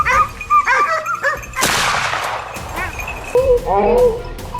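A pack of hunting dogs barks and yelps while chasing a wild boar, giving several sharp barks and whimpers, with a sudden loud burst of noise and excited human voices in between.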